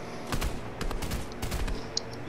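Rapid bursts of gunfire in the video game Fortnite, several sharp shots in quick succession across the clip, loud and close, with no voices.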